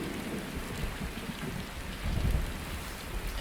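Steady heavy rain hisses over a low rumble of thunder that swells briefly midway, a dense, enveloping storm ambience from the film Blade Runner.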